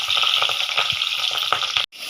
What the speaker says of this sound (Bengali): একটা ডিম দিয়ে দিছে ভাজার জন্য